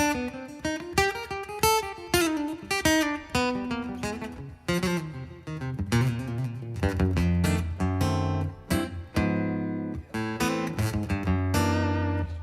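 An electric guitar runs through a Fishman Pro EQ Mini pedal, with rapid picked single-note runs giving way to ringing sustained chords and bass notes, loud and close with no voice over it.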